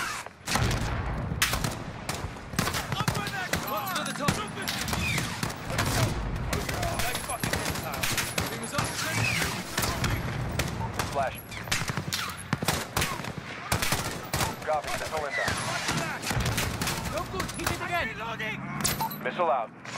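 Dense gunfire in the Modern Warfare video game, rapid bursts and overlapping shots filling the whole stretch, loud and close, with radio-style voices talking over the battle.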